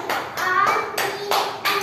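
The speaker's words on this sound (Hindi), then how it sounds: "ताली बजाओ" Hands clap in a few separate bursts, roughly five or six loud claps spaced unevenly over a couple of seconds in a small room during a children's learning game.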